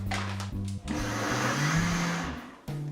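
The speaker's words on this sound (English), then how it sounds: "So what I'm going to do now, I'm going to blend it." A blender pulses in short bursts then runs steadily, powdering granular erythritol with a loud whirring motor and gritty rattle, pitch shifting as it spins up and down.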